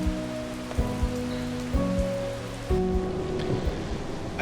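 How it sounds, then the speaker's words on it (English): Steady rain pours onto a surface, hissing continuously with scattered heavier drops and a faint low hum underneath. "but it was heavy rain."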